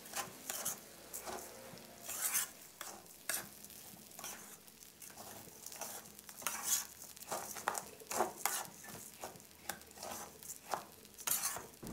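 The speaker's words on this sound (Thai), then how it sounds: "แล้วก็ให้เราผัดคลุกเคล้าให้เข้ากัน นะครับผัดจนเม็ดข้าวของเราขุ่นขึ้นมาเลยนะครับ" Raw rice for Thai chicken rice is stir-fried in a pan, with steady scraping and stirring strokes over a faint sizzle, heard up close with a regular rhythm.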